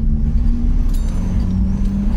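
A Fiat Palio 1.0 with a modified sporty exhaust drones loudly and steadily at cruising speed in fifth gear, giving a deep, constant engine and exhaust tone throughout.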